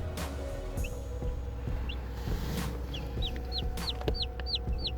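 Bantam chicks in their first week peep in a brooder, a series of short high chirps speeding up toward the end over a steady low hum, fairly faint, no talk.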